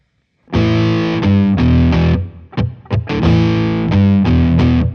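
Electric guitar played through the drive effect of a BOSS MS-3 multi-effects switcher, giving thick, distorted sustained chords and notes with a short choppy stutter in the middle and no talking.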